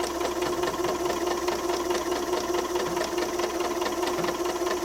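A sewing machine stitches a pocket seam at normal stitch length, a steady fast mechanical whir with a rapid rhythmic clatter, close and continuous with no talking.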